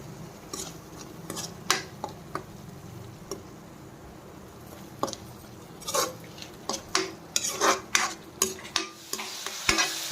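Ginger garlic paste fries in a pan for a king fish (vanjaram) curry with a soft, low sizzle, broken by scattered clinks and scrapes of a spoon stirring against the pan that grow busier toward the end.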